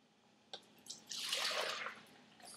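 Milk pours steadily into a bowl for about a second, a soft splashing trickle with a few light clinks and drips before and after, close by.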